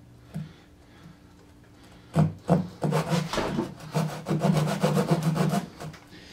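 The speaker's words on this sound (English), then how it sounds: "Now I'm going to take my Lee Nielsen carcass saw, start it right in the" A Lie-Nielsen carcass saw cuts a wooden dovetail, starting with a few tentative strokes and then settling into a steady run of quick, rasping back-and-forth strokes, close and clear.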